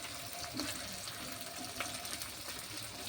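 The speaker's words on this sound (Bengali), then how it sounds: "এরপরে মশলার মধ্যে আমি একটু জল দিলাম যাতে মশলাটা বসে না যায়" Water is splashed into a pan of frying spice masala of turmeric, chili, cumin and coriander powder, giving a steady close hiss and gurgle with a soft splash of pouring and no talk.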